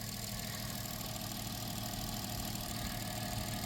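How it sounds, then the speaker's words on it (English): The engine of a 2000 Chrysler Grand Voyager SE idles after being off the road for years, giving a steady, even hum with a faint ticking knock, close by and constant, with no speech. "Motor sounds pretty good, though."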